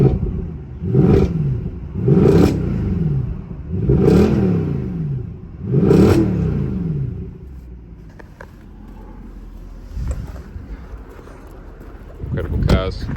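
A 2013 Mercedes-Benz C63 AMG with a 6.3 V8 revs four times in a row, loud deep blips rising and falling close by, followed by quieter idling and a faint last rev, with wind noise.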